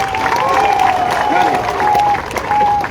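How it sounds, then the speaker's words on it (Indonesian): A crowd at a Papuan public gathering applauds, its clapping and cheering running continuously beneath someone talking over it, with a steady, fairly loud wash of hands throughout. "Tepuk tangan buat teman-teman Nusantara."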